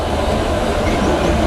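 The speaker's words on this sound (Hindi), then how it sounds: "सामने से देख सकते हैं 2 ट्रेन पैरेलल आती हुई" Indian passenger trains, an Intercity and an express, run side by side on parallel tracks, giving a loud, steady rumble and rolling clatter of wheels and carriages heard from on board, with no break.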